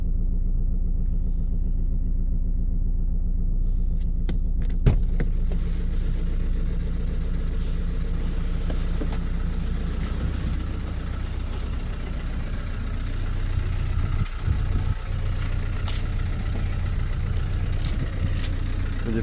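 A Renault Kadjar's 1.5 dCi 110 diesel idles unevenly, a steady low rumble running alone and close throughout, with slight wavering in level.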